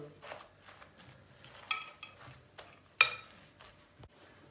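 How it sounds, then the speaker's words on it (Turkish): Eggs and spices are whisked together in a bowl with a utensil, giving quiet, intermittent clinks and scrapes at close range, with one sharper tap near the end; the sounds are faint and no one speaks. "Bunu iyice birbirine bir yediriyoruz yumurtayı, baharatları."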